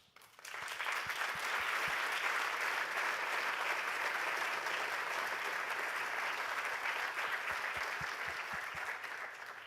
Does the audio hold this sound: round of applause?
yes